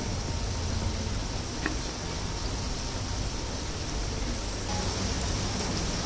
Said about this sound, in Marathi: हे असं छान गोल्डन रंग येईपर्यंत तळून घ्यायचे आपल्याला